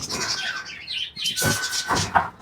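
Pet pigeons and small cage birds chirp in a home aviary at feeding time, with scattered thin high tweets over a steady noisy background.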